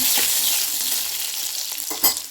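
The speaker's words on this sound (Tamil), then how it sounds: "இப்போ நம்மளோட ஜீரகம்லாம் பொரிஞ்சிருச்சு அந்த ரெண்டு பூண்டு பல் சேர்த்தாச்சு" Garlic cloves and cumin seeds frying in oil give a loud, close, continuous sizzle, with a brief clatter of stirring near the end.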